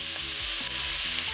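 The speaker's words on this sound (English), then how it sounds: "Give the onions a good stir" Onions are stirred in a sizzling soup pot, giving a steady, close hiss of frying with faint scrapes and a low hum beneath, and no voices.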